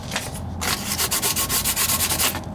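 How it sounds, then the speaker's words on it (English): A sheet of 1000-grit sandpaper rubs over a cast iron differential housing on a 1997-2003 Ford F-150, giving loud, close, rhythmic back-and-forth rasping strokes heard alone. "Got a new sheet of sandpaper. I'm gonna go over it."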